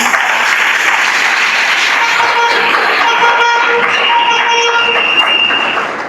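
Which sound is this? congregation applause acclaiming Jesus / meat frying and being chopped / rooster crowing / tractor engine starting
congregation applause acclaiming Jesus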